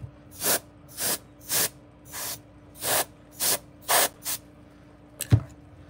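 Alcohol ink is sprayed onto Dollar Tree wood planks in nine evenly spaced short hisses. A sharper, louder spritz closes the sequence. The sound is close and alone, with no talking.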